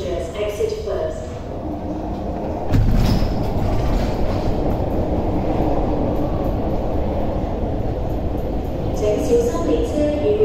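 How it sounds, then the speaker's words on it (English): An MTR train pulls into Kam Sheung Road Station in Hong Kong, its rumble swelling loudly near three seconds and holding as a steady close roar with rail clatter, while a platform announcement voice sounds beneath. "The train to Tunmen is arriving."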